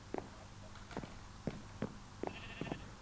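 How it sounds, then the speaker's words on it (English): Short, quiet sheep bleats from the Minecraft video game, circa 2011, come in a quick series of about six clipped calls spaced irregularly over a faint background hiss. "I got a sheep now"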